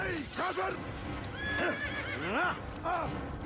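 A horse in the Assassin's Creed video game neighs and whinnies in repeated rising calls while its hooves clop underneath, the sounds close and clear, overlapping one another across the whole stretch.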